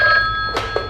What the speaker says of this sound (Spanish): está sonando el teléfono